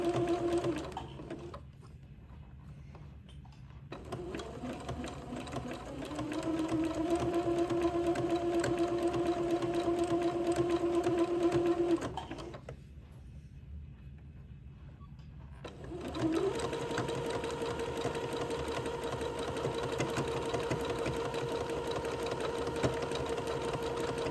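A sewing machine zigzag-stitches around the curved neckline of a dress, running in two long steady bursts of rapid whirring separated by a short quiet pause, close and clear with no talk.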